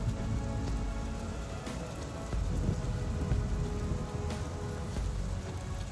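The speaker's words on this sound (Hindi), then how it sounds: "अरे ये क्या, अचानक से बारिश शुरू हो गई।" Heavy rain pours steadily on surfaces outdoors in a thunderstorm, a dense continuous roar with distant thunder rumbling low beneath it.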